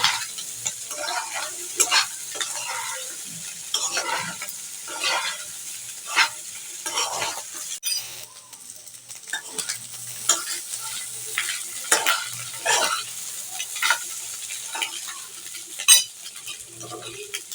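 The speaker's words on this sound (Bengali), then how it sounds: "আমি একটু মাঝখানে নাড়া দিয়ে দিচ্ছি।" Chicken liver kala bhuna curry is stirred as it fries in a pan, with a spoon scraping and knocking against the metal in irregular strokes over a soft, steady sizzle, close and alone.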